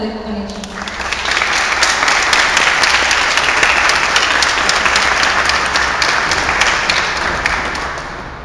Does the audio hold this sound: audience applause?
yes